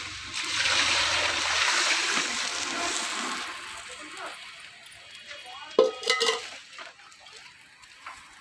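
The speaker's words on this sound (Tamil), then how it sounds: "இப்போ இதுக்கு தேவையான தண்ணி சேர்த்துக்கலாம்" Water pours steadily into a pot of rice with a soft rushing splash for a few seconds, followed by a few clinks and stirring sounds.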